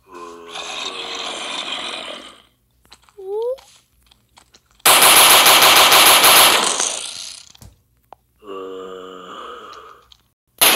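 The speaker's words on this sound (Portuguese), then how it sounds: "Essa daqui é uma arma de metralha, ó." Rapid-fire machine gun bursts from a weapons mod in a video game, a long loud dense volley in the middle with shorter firing bursts before and after, under spoken commentary.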